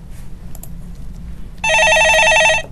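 A telephone rings on a Korean stock-market call-in TV show, a loud electronic trilling burst starting after a stretch of quiet room tone and lasting about a second.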